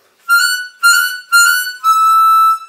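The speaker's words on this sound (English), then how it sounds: "Try the draw on the 10" Four bright, high chromatic harmonica draw notes on hole 10, three short draws followed by one longer held note, played close and clear.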